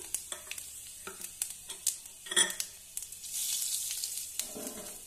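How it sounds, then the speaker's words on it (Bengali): Dried red chili, five-spice seeds and bay leaf tempering in hot oil left from frying pointed gourd, sharp spattering pops and utensil clicks, then a swelling sizzle, close. "আর দিয়ে দেবো ফোড়নে শুকনো লঙ্কা, 5 ফোড়ন আর তেজপাতা দিয়ে দিলাম।"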